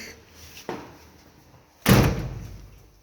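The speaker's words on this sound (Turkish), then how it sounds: "Kapıyı kapatalım arkadaşlar." A door in a residential apartment building is pushed shut: a light knock-like bump first, then a loud slam with a ringing decay, close by.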